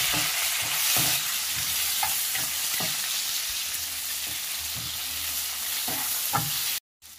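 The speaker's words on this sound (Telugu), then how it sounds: "ఈ టమాటోని కూడా ఫ్రై చేసుకోవాలి" Chopped tomato frying with golden-browned onions in a pan for chicken dum biryani: a steady close sizzle with occasional spatula stirring scrapes and taps, no voices.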